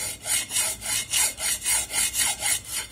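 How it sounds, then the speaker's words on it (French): A hand file scrapes back and forth across a scooter wheel rim, about nine even, rhythmic rasping strokes, close and loud with no talk. "Et ben, je vais tout limer là."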